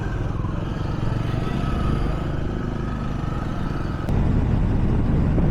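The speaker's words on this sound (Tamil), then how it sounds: "வண்டி ஏறத்து எவ்வளோ கஷ்டப்படுது பார்த்தீங்களா?" A Triumph 400 motorcycle engine labours uphill on a hairpin-bend road to Kolli Hills, a steady, loud, close rumble mixed with wind noise that grows heavier and stronger near the end.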